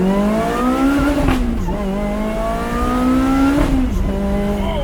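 A car engine revs and pulls hard through the gears while being driven, its tone climbing in long sweeps with brief dips at each shift, loud and close, with a faint tire squeal and no voices.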